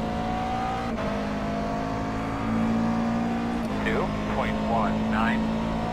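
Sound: McLaren MP4 12C race car engine in iRacing video game

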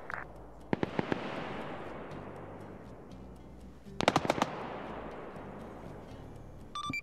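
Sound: gunfire in a military video game

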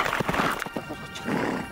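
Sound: horse neighing

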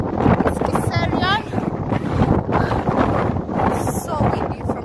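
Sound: strong wind on hilltop

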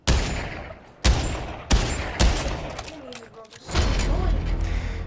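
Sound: Desert Eagle .50 AE gunshots in Pavlov video game

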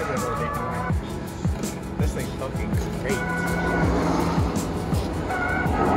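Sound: small Bugatti car driving off

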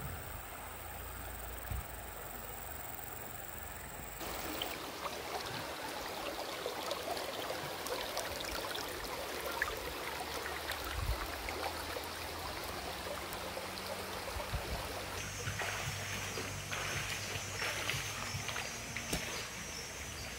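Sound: river stream flowing at eco camp

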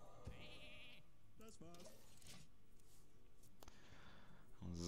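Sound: sheep bleat from Hearthstone video game polymorph spell

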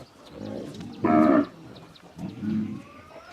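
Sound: cow mooing

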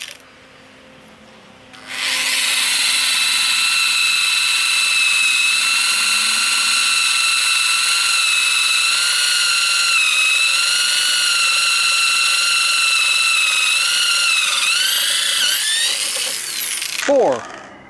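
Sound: power drill drilling with a 1/8 inch bit

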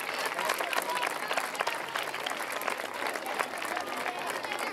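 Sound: audience applause for the contestants

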